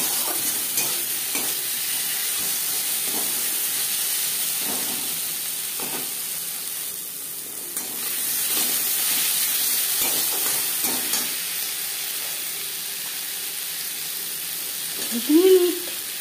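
Fish oil fries in a pan with onions and slit green chillies for begun chorchori, a constant close sizzle with periodic soft stirring scrapes and a brief louder clatter near the end.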